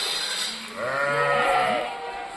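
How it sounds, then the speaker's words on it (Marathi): A Kathiawari goat lets out a long, wavering bleat nearby, rising and falling over steady background noise from a newly arrived group of goats. "बघा शेळ्या"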